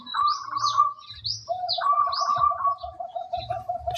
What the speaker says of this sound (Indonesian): Perkututnya perkutut katuranggan.